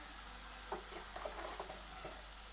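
Okra fries in a pan with a soft, steady sizzle as red chili powder is added, with a few faint scraping and stirring sounds over a low background hum.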